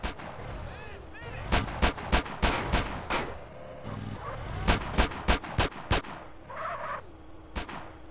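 Soldiers fire guns in GTA San Andreas, with loud, close shots cracking in irregular bursts and clusters over a low rumbling background, plus a brief electronic tone near the end.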